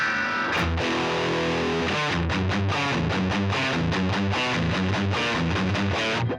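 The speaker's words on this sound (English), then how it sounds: "It's definitely not a bad distortion sound" Electric guitar played through a cheap $16 pedalboard distortion cranked all the way up: a sustained fuzzy chord rings out, then rhythmic chugging strums pulse steadily, loud, saturated and somewhat thin and tinny.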